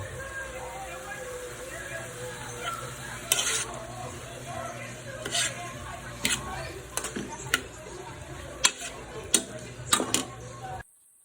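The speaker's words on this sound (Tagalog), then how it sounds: "Ginisa ko muna. Lagyan ko ng kamatis, sibuyas, bawang." Tomato, onion and garlic sautéing for squid adobo, a steady sizzle with scraping stir strokes and occasional sharp clacks of a utensil against the pan, close and fairly loud throughout.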